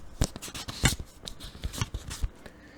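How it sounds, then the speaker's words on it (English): Paper notes being handled and shuffled, a string of crisp rustles and flicks in uneven bursts, close and fairly quiet, with no talking. "Look at the paper sounds."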